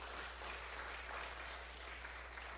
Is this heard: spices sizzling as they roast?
no